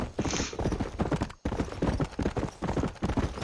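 Horse hooves gallop in rapid, rhythmic clip-clop beats during Red Dead Redemption gameplay on Xbox One, close and steady with a brief break partway through.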